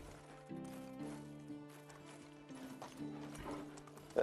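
Horse hooves clip-clopping in the Medieval Dynasty video game, a steady walking rhythm of soft hoof beats over a sustained tonal game music bed, moderately quiet.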